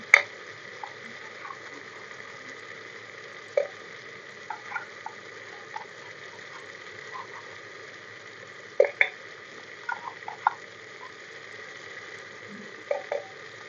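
Gentle sizzling from a pressure cooker with occasional sharp pops and crackles of spices frying, steady and close, with no talking.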